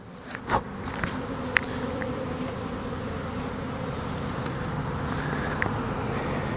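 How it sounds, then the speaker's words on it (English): Bees buzz steadily and close during a beehive inspection as a frame thick with bees is handled, with a constant droning hum and a few brief knocks and clicks over it. "This next one's got quite a bit of bees on it."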